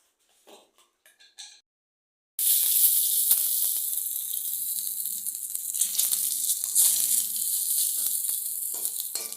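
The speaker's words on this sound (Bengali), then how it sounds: "তেজপাতা শুকনো লঙ্কা অল্প দুটো জিরে ফোড়ন দেওয়া হলো" Bay leaf, dried chilli and cumin seeds drop into hot oil and burst into a loud, steady sizzle that runs without a break for several seconds after a few faint clicks and taps.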